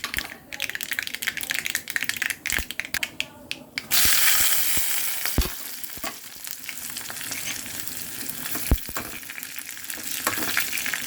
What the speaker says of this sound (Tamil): கடுகு பொரிஞ்ச உடனே நாம் பூண்டு நசுக்கணுங்க காஞ்ச மிளகோ போட்டுடலாம் சார்.